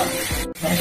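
Snake gourd and pointed gourd pieces fry in hot oil, giving a brief, bright hiss that cuts off for an instant and then resumes.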